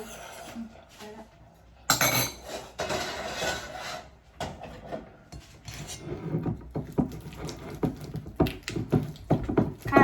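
Wooden spatula stirring a Thai pandan coconut dessert in a pot, irregular scraping knocks and clinks of wood against cookware, close and fairly loud, with a few brief quiet gaps.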